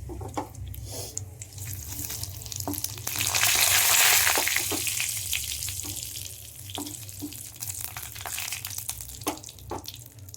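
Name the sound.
spices and ginger frying in oil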